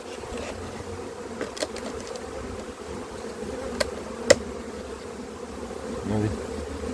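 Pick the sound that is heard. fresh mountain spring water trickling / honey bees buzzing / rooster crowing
honey bees buzzing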